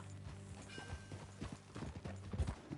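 Horse hooves clip-clopping at a riding pace in Red Dead Redemption 2, a steady rhythm of fairly quiet thuds with faint tack and movement noise, alone without talk.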